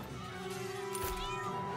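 A cartoon cat in South Park: The Stick of Truth lets out a drawn-out, wavering meow over game background sound, fairly close and moderately loud.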